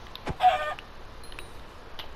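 A Minecraft chicken gives a short, moderately loud cluck, followed by a few faint, brief game sounds in an otherwise quiet background.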